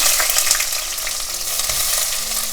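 Chopped onion frying in olive oil with cumin seeds, a loud, continuous crackling sizzle close up with a few soft stirring knocks.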